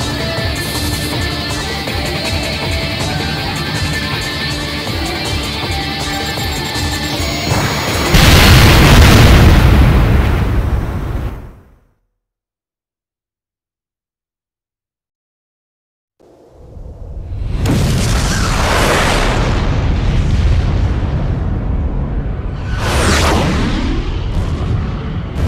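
Enemy facilities blow up in a flight combat video game with an F-4E jet: loud, rumbling booms that suddenly drop to total silence, then a fresh run of heavy blasts with whooshing bursts.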